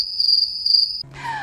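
A cricket sound effect gives a steady, high, pulsing chirp for about a second, then breaks off into a brief, different tonal sound.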